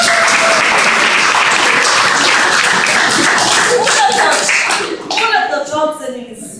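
Parents and students at a school parents' meeting give a student a sustained round of clapping, loud and dense at first, then thinning and tapering off toward the end.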